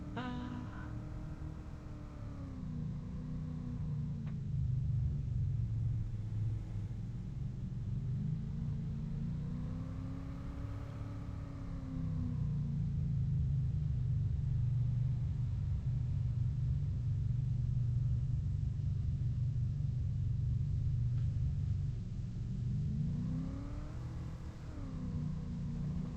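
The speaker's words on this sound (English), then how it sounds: "This old truck now, it'll get away from you. Got a lot of power." An old truck engine drones and rumbles while driving, rising and falling through several revs with a steady low roar from inside the cab, and brief talk over it.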